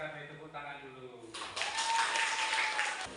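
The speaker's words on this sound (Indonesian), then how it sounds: "Kita beri tepuk tangan dulu." A physics class of students in a classroom breaks into applause, a dense burst of clapping rising after a teacher's voice and lasting a couple of seconds.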